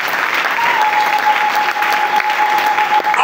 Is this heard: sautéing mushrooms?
no